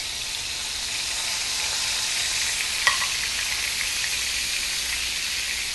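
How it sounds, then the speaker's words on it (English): Beef steaks sear in a hot oiled pan, a steady close sizzle that holds evenly throughout with one brief clink near the middle, no talk. "You have some oil in there, and we're just going to go ahead and sear our steaks"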